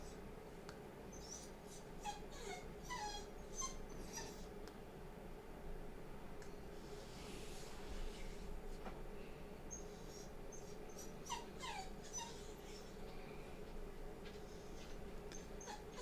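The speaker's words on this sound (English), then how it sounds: "I don't know why he's whimpering, guys." A dog whimpers softly in a few scattered high, thin cries over a steady low indoor hum, faint and somewhat distant throughout.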